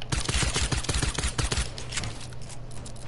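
Rapid gunfire crackles in a video game, with dense overlapping shots for the first second and a half before thinning into a steadier background rattle.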